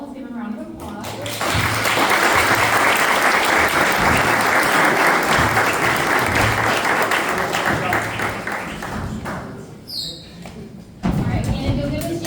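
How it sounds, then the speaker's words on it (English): Sustained audience applause at a local political gathering in Panama City, a dense wash of clapping swelling and holding loud for most of the stretch, then thinning out, with a brief whistle near the end before clapping resumes. "Let's give a round of applause."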